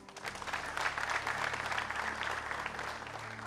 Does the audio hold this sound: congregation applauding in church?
yes